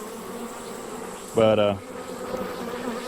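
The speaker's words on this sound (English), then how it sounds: "the bees that's in here is probably robbing from another hive" Honey bees robbing a hive: a single loud, close buzz swells for about half a second and fades against a quiet outdoor background.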